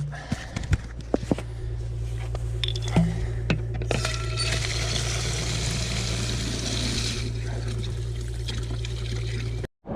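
Water runs from a tap into containers to collect 2.5 litres during a snowy fat-bike camping trip, a steady trickling pour near the microphone with a low hum beneath and a few clunks at the start.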